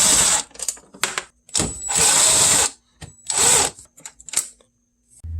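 A power tool backs 8mm bolts out of a BMW E90 bumper in the wheel well, where the bumper meets the fender. Loud whirring bursts of varying length start and stop with short gaps, close by.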